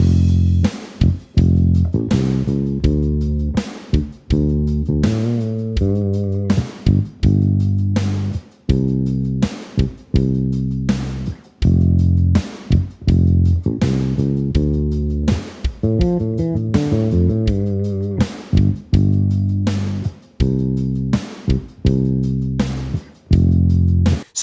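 A bass guitar plays a chorus line, a syncopated groove locked with punchy drums that outlines the chord progression. It runs continuously, full and up-front with no talking.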